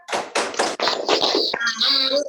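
A group of older people doing the rhythmic 'tepuk lansia sehat' clap, a run of sharp, close hand claps in a patterned beat, with voices chanting along.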